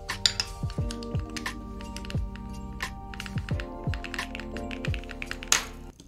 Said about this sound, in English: You want to see an ABS spacebar?